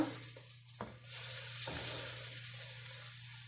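Puree stirred into a hot frying pan, a steady close sizzle with a couple of sharp scrapes of the utensil against the pan, alone with no talk.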